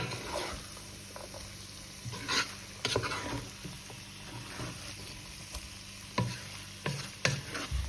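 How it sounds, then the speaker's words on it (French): Vegetables hiss softly in a frying pan for tomato rice with meatballs while a spoon stirs them, giving a few louder scraping knocks against the pan over a low, steady sizzle; no one speaks. "Je vais maintenant ajouter les légumes et bien mélanger"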